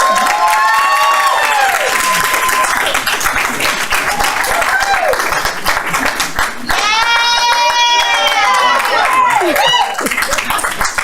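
Attendees at an Aldine ISD board meeting clap for an award recipient, brisk clapping mixed with cheers and high shouts, fairly close and loud, with voices rising over it in bursts.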